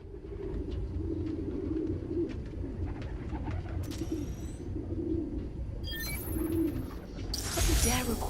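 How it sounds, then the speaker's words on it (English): Pigeons coo steadily in a park in Spider-Man: Miles Morales, their low rhythmic calls layered over city ambience, with brief chirps and a swelling flutter or hiss near the end. "Pigeons keep flying away, so just turn invisible to get the sound."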